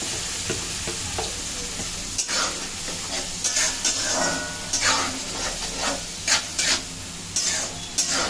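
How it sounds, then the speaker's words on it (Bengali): Grated spinach tipped into a sizzling pan of oil with dried chilli for palak paneer, a steady frying hiss with scraping stir strokes and small clatters throughout. "পালং শাকের যেটা গ্রেট করা হয়েছিল সেটা দিয়ে দেওয়া হলো।"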